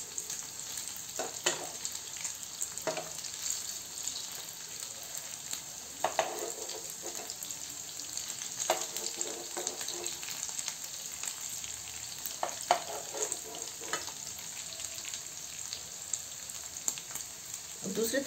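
An oats breakfast pancake fries in a pan after being flipped, with a steady low sizzle running throughout and occasional soft taps and crackles, quiet and fairly close.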